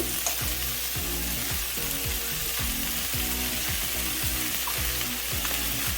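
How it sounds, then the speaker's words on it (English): Chicken stir fry sizzling loudly in a hot pan as honey is added, a constant bright crackle with repeated rhythmic scraping and stirring strokes, close and without talking. "Continue the stir fry process. We're going to add our honey."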